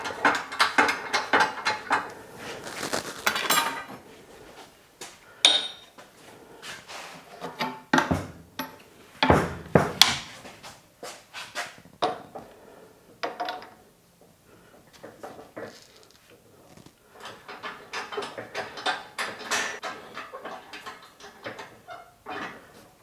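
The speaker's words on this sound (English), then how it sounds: "So I'll bring this ram down to that." A press ram is cranked down to seat a bearing and bush with a spring and socket, giving clicking ratchet and gear sounds, metallic creaks and knocks in uneven bursts, close up with pauses between.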